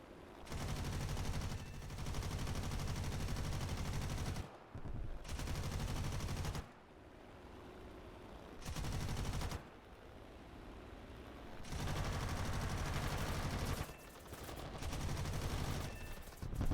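Rapid bursts of aircraft gunfire from an AU-1 Corsair in the War Thunder combat flight game, loud sustained volleys separated by brief pauses, repeating several times across the stretch with engine drone between bursts.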